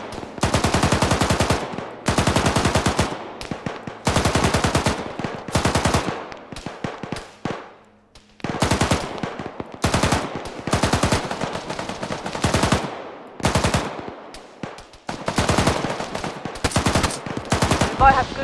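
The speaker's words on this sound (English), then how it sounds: "I'll jump out and start shooting at things." Rapid bursts of automatic gunfire from a multiplayer shooter video game, loud and close, firing in repeated rattling volleys separated by short pauses throughout.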